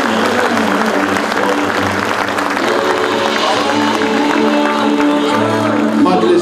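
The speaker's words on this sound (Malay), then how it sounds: "marilah sama-sama kita memberikan satu tepukan gemuruh kepada mereka" Audience applause follows a stage performance, a dense, loud wash of clapping from a large hall crowd with some cheering, steady throughout and mixed with a voice over the crowd.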